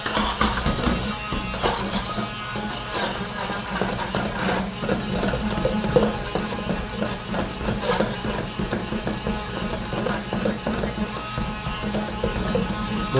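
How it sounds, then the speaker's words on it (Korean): A kitchen blender grinds garlic with a little water. It makes a continuous, busy, rattling whir that stays at an even loudness the whole time, close up, with no talking. "믹서를 사용해서 갈아 주시면 되시고요."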